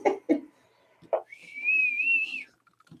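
A single sustained whistled tone, slightly wavering in pitch, lasts about a second after a few short soft noises, then fades into quiet.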